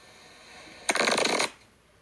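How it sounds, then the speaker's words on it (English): A single quick riffle of cards, a dense burst of papery flutter lasting about half a second against a quiet background. "It is shuffling cards."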